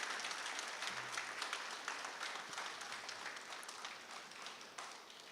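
Audience applause for a chairman's speech on saving democracy, a steady wash of many hands clapping that holds for several seconds and slowly fades, with no talking over it.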